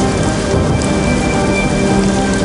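Heavy rain falls steadily, a loud, constant hiss that stays even throughout.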